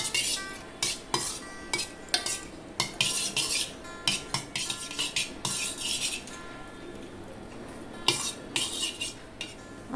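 A spoon stirs yogurt in a bowl to make homemade shrikhand, scraping and clinking against the sides in a quick, steady rhythm, close and fairly loud with no talking.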